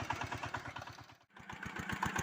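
A Zubr 8 walk-behind tractor engine runs close by on a muddy outing, a rhythmic mid-pitched chugging that dips briefly before picking back up, with no talk.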